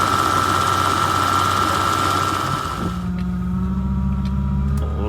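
Power steering on a 1969 Ford Country Squire wagon with a leaking system whines over the loud, rumbling idle of the engine, the tone shifting partway through as the engine note drops.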